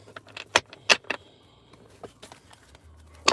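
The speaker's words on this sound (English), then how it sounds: "I'm going to shuffle these cards out one more time." Tarot cards being shuffled by hand, giving a few sharp riffling bursts spaced irregularly across a quiet room, with softer rustles between them.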